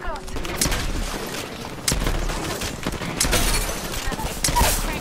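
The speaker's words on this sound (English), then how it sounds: "The other team is shooting at us." Gunfire from the opposing team in a video game crackles in repeated sharp bursts and scattered shots, some near and some more distant, mixed with game noise.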